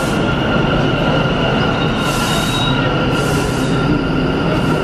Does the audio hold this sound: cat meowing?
no